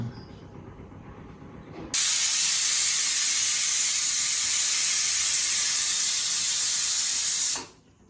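Tempering spices are dropped into a hot kadai for masoor dal with bottle gourd greens, releasing a sudden loud hiss that holds steady for several seconds before it cuts off.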